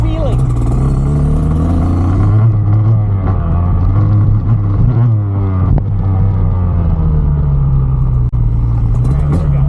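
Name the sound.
dirt bike engine revving for a wheelie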